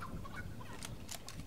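A chicken clucks in the video game Fortnite, a few short, faint, fowl-like calls over low background game noise.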